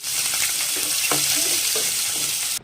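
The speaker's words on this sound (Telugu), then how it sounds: "ఉల్లిపాయలు పచ్చిమిరపకాయలు వేసిన తర్వాత శుభ్రంగా వేపుకోవాలి" Sliced onions and green chillies frying in oil for a tomato chicken curry, a dense continuous sizzle up close with a few soft stirring scrapes, cutting off abruptly at the end.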